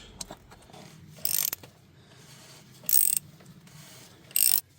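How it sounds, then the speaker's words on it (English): Oil filter wrench working on a Mercedes Sprinter oil filter, soft ratcheting clicks and scrapes with three short bright metallic bursts, close but fairly quiet, no voices. "Just going to pop that off right there. The oil filter wrench."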